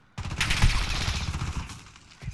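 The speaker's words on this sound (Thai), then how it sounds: "เหมือนโดนยิงจากด้านบนทางโน้นนะ" Sudden burst of automatic gunfire in Call of Duty: Modern Warfare, a close, loud rattle of rapid shots that starts abruptly and fades over about two seconds.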